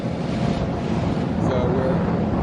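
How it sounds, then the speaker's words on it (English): Boat rolling through 5-6 foot beam sea waves off the coast of Maine, with a steady broadband wash of water and wind buffeting the microphone, continuous and close. "we are traveling with a beam sea. About 5 or 6 foot rolling waves"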